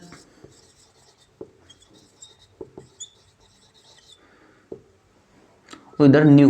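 Chalk or marker writing on a board during a classroom lesson, with scattered short taps and scratchy strokes, quiet and close, while a teacher speaks briefly near the end.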